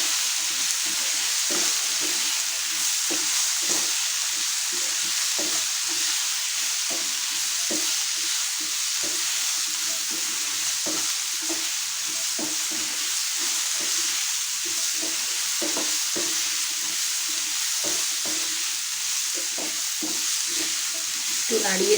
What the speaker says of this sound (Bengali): একটু নাড়িয়ে চাড়িয়ে এবার আমি সমস্ত এটাকে ঢাকা দিয়ে হতে দেব।